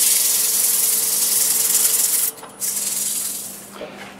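Steady abrasive sanding hiss on an apple wood bowl over a spinning lathe's hum, briefly dropping out midway before resuming, close and fairly loud.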